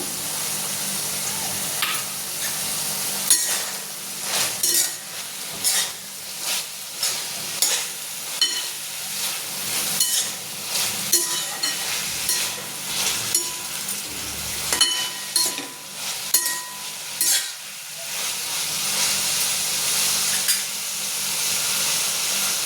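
Cabbage, onion and noodles are stir-fried in a hot pan, with a steady sizzling hiss broken by repeated scraping and tossing strokes of the spatula, close and loud throughout.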